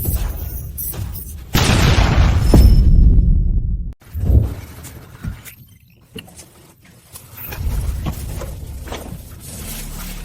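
A loud, rumbling airplane explosion swells and roars for a couple of seconds, then cuts off, followed by scattered thuds and a lower rumbling background.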